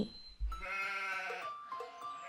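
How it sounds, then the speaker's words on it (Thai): Cartoon goats bleat in a grassy meadow with a wavering, nasal cry that rises and trails off, followed by a fainter second call, alone and fairly quiet. "เธอก็ได้พบปีเตอร์ เด็กเลี้ยงแกะ ผู้ซึ่งกำลังดูแลฝูงแพะบนทุ่งหญ้า"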